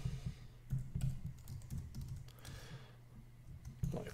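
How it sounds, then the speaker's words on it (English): Someone types on a computer keyboard at a desk, a quiet, uneven run of key clicks over a low background hum. "you can check if it's there by typing"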